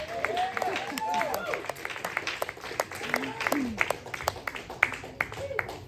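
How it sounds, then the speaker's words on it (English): A comedy club audience claps for a stand-up comic taking the stage, scattered individual hand claps ringing out fairly close, while voices talk and call out over them throughout. "Keep clapping, dude."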